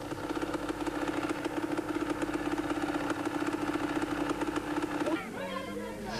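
A heavy motorcycle engine idles at a 1996 Sun City 400 off-road race, a steady loud pulsing throb that drops off abruptly near the end, with voices talking over it.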